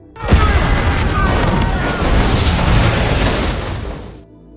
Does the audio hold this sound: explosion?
yes